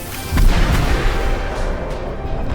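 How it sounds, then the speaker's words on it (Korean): A weapon fires in Overwatch 2 PvE mode, a loud deep blast followed by a rumbling, crackling tail that sustains and slowly fades. "와 가자 발사!"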